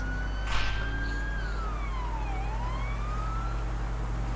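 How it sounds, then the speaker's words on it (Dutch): A police siren in the video game GTA V wails in one long sweep that dips and rises again, loud over a low steady engine hum, with no talk. "De sirene die maakt me zot."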